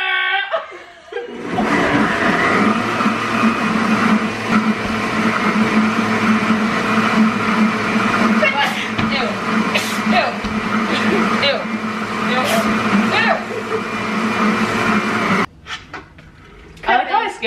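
In a kitchen while crepes are being made, a person imitates a blender with a long, continuous, whirring vocal drone. Laughter and talk break in as the noise goes on, up close and loud.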